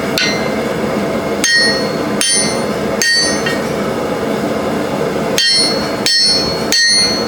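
Repeated hammer blows strike hot metal at a blacksmith's forge during drifting, about seven loud, sharp, ringing impacts at uneven intervals, close and clear over steady forge roar.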